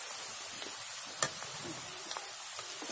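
Hibiscus flowers and leaves fry in oil for a homemade herbal hair oil, a soft sizzle and hiss broken by a few sharp scrapes and taps of stirring.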